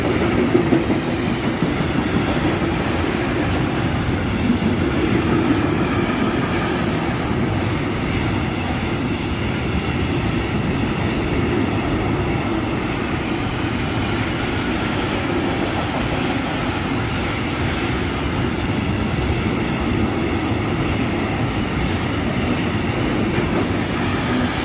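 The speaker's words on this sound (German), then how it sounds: "152 von DB Cargo mit dem Containerzug auf Gleis 6." A DB Cargo class 152 electric locomotive hauls a container train through a station, producing a loud, steady rumble of rolling wagons with rhythmic clickety-clack from the wheels lasting throughout.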